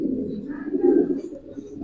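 Giribaz pigeons give a low, continuous, throaty coo close by for under two seconds, fairly loud, with faint chirps above it.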